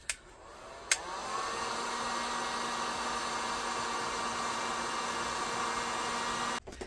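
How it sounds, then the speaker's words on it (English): A heat gun blows hot air over a craft tray with a steady, even whooshing hiss that runs continuously for several seconds, bracketed by a couple of sharp clicks as it switches on and off. "Now we're going to take the heat gun again, and we're going to be careful because we don't want to get the transfer hot."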